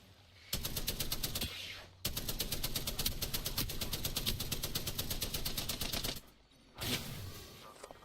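Rapid automatic gunfire in a shooter video game, long loud bursts of fast evenly spaced shots with brief pauses between them, close and dominant.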